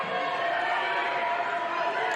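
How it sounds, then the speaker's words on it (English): Steady roar of a crowd at a PCW professional wrestling show fills the clip, a dense continuous cheer with no individual voices standing out, loud and unbroken throughout. "Listen to this crowd."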